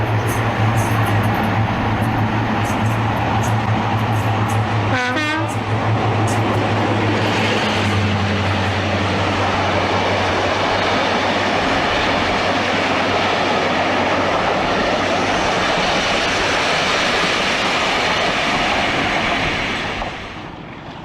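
A classic diesel locomotive runs past with a loud, steady engine rumble and rolling wheel noise that holds for about twenty seconds before fading.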